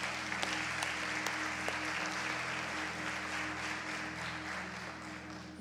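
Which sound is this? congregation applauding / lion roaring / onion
congregation applauding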